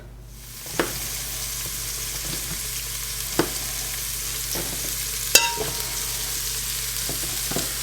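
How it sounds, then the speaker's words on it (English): Mushrooms sizzle in sesame oil in a hot pan, a steady close hiss broken by a few sharp knocks and clinks as pieces drop in. "I'm going to add in my mushrooms as I get them cut."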